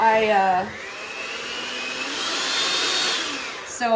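A KitchenAid electric stand mixer whirs steadily as it beats chocolate chip cookie dough, a loud motor hum running alone for a few seconds, with brief voice at the start and end.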